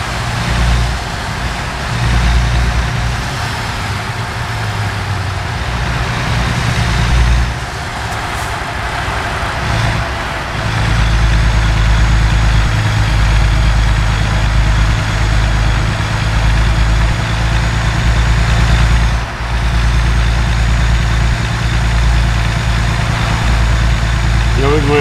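A truck engine idles and runs steadily in American Truck Simulator on the road from Stockton to Reno, a loud, low, constant rumble heard from inside the cab, with a couple of short dips and someone talking over it.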